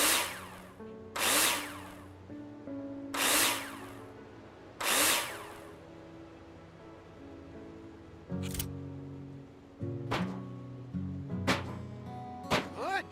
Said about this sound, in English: Now place them in the hologram and screw them in with a drill.